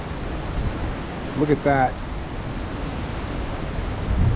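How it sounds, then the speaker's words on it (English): Strong wind from a severe tropical storm roars in a steady broad rush over a flooded rice field, with a person briefly speaking partway through. "It truly does look like a raging river being driven by the wind"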